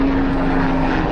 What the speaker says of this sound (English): loud helicopter